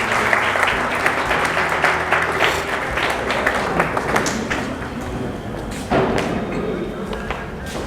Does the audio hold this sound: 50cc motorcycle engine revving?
no